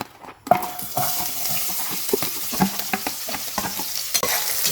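Garlic and onions frying in plenty of oil for squid adobo, a bright close sizzle broken by repeated scraping and clinking as the aromatics are stirred, with no talking.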